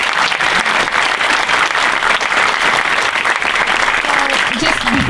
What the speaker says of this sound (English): A round of applause since he stood up already.